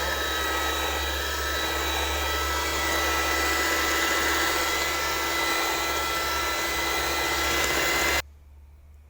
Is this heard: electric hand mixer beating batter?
yes